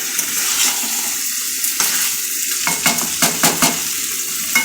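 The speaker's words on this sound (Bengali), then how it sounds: "এই যে ভালো করে কষিয়ে নিচ্ছি, মাংসটা হয়েও গেছে সেদ্ধ।" Kosha mangsho, boiled meat browning in oil in a pan, hisses loudly while a spatula scrapes and stirs it in several short strokes toward the end, close up and without speech.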